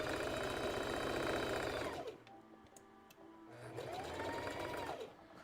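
A sewing machine topstitches the slit hem of a McCall's M8383 dress in two close, rapid runs of stitching separated by a quiet pause.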